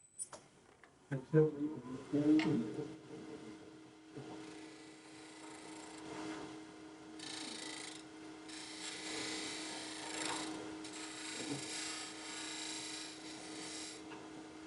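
Steady rasping and scraping of a hand tool working wood, continuous rubbing strokes after a few louder knocks at the start, with a voice speaking intermittently.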